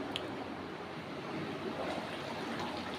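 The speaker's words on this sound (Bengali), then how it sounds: "দেখুন ঝোলটা ফুটে গেছে" Egg curry gravy with green chilies boils under a lid in a covered pan, giving a faint, steady bubbling hiss that runs evenly throughout.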